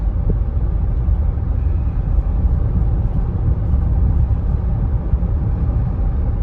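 A 2018 GMC Yukon Denali V8 hums steadily as it picks up speed, a low continuous engine and road rumble heard from inside the cabin with no talking.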